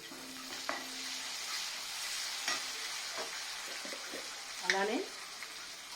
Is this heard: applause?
no